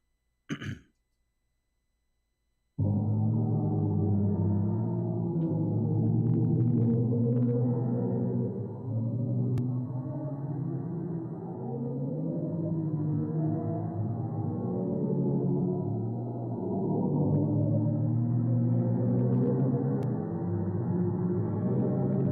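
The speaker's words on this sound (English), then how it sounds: "courtesy of NASA, they say that is the sound of a black hole" A brief click, then a NASA recording of a black hole: a sustained, eerie low droning hum with wavering, layered tones that swell and shift slowly for a long stretch.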